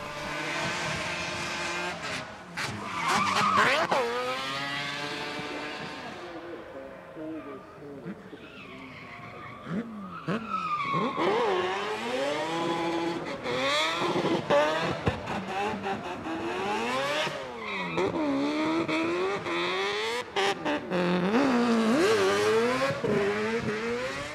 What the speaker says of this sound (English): to be the first person to ever drift up the driveway